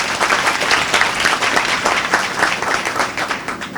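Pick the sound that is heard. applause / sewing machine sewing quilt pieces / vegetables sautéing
applause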